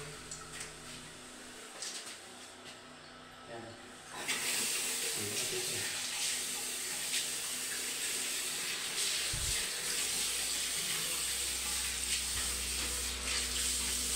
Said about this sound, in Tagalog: Let's try opening up all the pipes and see if the water comes through.